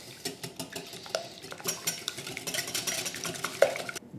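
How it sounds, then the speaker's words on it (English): Two large eggs being whisked in a bowl, rapid rhythmic clicking and tapping of the whisk against the sides, close and fairly quiet, stopping abruptly at the end. "So I need 2 large eggs. I'm going to whisk these."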